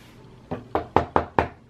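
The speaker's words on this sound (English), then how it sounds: "We hear a knock on the door." Five sharp knocks land on a door in a quick, slightly uneven rhythm, close and clear, each with a short hollow decay, with no talk.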